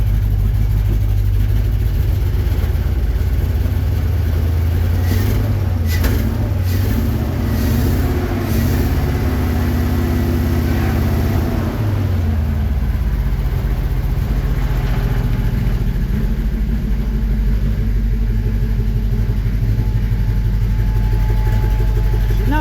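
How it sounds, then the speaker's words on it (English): Engine of a 1954 Chevy 3100 pickup truck, apparently firing on only some cylinders, idling loud and close with a steady low rumble and a few rising revs before settling back. "Let's give it a little rev."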